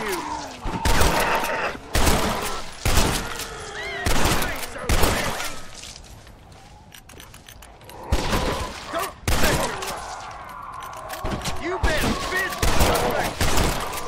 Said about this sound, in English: I'll just shoot everybody from up here.